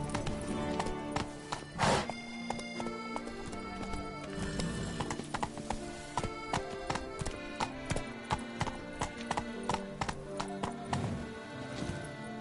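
Hooves of the horse Roach clip-clop in a quick galloping rhythm through The Witcher 3: Blood and Wine, with occasional whinnies rising over the steady, close hoofbeats.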